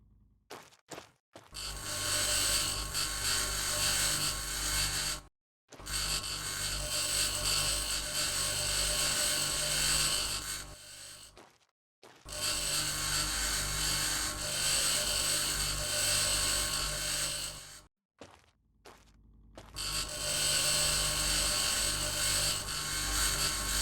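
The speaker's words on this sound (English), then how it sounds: "Let's go ahead and grind this stuff down." Grinding down a building in the Mars colony game Occupy Mars, a loud whirring mechanical grinding drone in four long stretches separated by brief silent pauses, with clicks between them.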